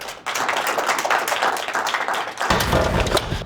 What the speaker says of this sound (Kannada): ಈ ಎಲ್ಲಾ ಮಾತುಗಳಿಗೆ ಒಂದು ದೊಡ್ಡದಾದ ಚಪ್ಪಾಳೆ ಬರಲಿ.